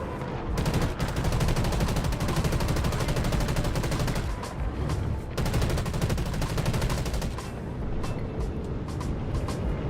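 Gunfire in the video game Delta Force, with dense, sustained rapid automatic fire, loud and nearly continuous with only brief pauses, and no talking over it.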